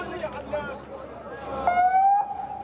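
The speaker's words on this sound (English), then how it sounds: "The siren, the unintelligible voice." An ambulance siren at a hospital in the far north of Gaza rises briefly into a steady wailing tone over muffled, unintelligible voices and general commotion.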